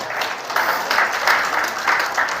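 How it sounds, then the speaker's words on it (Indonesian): Church congregation clapping for God during a sermon, a steady dense wash of applause throughout with no voice over it. "Tepuk tangan dulu buat Tuhan."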